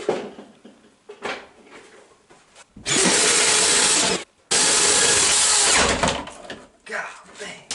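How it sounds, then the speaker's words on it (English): A single-speed power drill bores through wood ceiling framing during a wire run, running all-or-nothing in two loud sustained bursts of about 1.5 seconds each, with quieter handling noise before and after. "this is a 1-speed drill, so it's just all or nothing"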